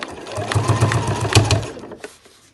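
A sewing machine stitches the seams of a fabric backpack, running with a fast, steady mechanical whirr and rhythmic needle clatter close up before it slows and stops near the end.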